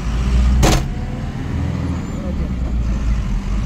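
A heavily loaded truck carrying Hapus mangoes rolls past on the road toward Vashi, a loud engine rumble with one sharp clank early, then steady traffic noise.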